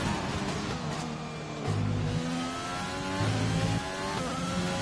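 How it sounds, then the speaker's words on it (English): Renault race car engine in a Codemasters racing game, a loud sustained whine that drops in pitch at each gearshift and climbs again as it revs through the gears, steady and close with no talking. "Listen to that Renault."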